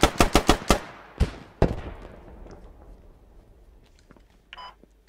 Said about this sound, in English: I heard shots